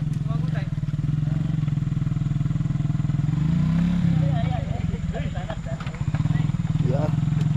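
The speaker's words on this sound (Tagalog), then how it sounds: "Tama man, susubukan yung motor iyahon." Motorcycle engine labouring to climb an uphill road, a loud continuous rumble with rising and falling revs, under people talking nearby.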